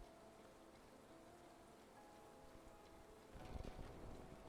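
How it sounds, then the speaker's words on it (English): Steady rain falls in the video game Whispering Willows, a soft continuous patter with faint low rumble that swells slightly louder toward the end, no voices. "It is raining now."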